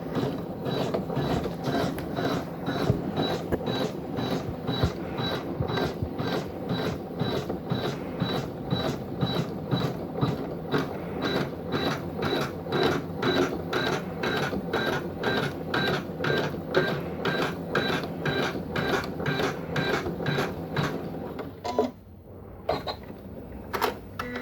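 An embroidery machine runs a long basting stitch on a quilt block: a steady, fast mechanical clatter of needle strokes, close and continuous, with a brief pause near the end.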